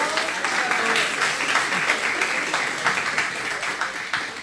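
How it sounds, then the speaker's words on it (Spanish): A crowd applauds steadily, a dense wash of clapping hands held at an even level throughout, with a few voices mixed in. "Un aplauso para ellas, por favor."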